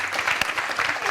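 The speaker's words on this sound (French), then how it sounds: "Acclamation pour Adèle." Studio applause for a guest on a live French radio talk show, a dense steady clapping that fills the whole short moment without talk.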